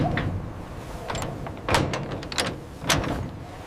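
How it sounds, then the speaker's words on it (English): Doors close at a factory in a snowy forest setting, with a few sharp, close knocks and thuds standing out over a steady background rumble. "The doors close."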